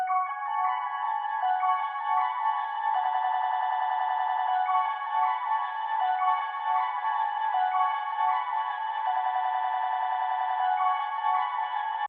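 A looping beat sample runs through FL Studio's Portal plugin on its water preset, with reverb added, giving a steady, shimmering bell-like tone that sustains evenly and loudly throughout.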